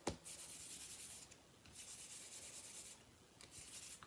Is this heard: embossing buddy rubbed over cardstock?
yes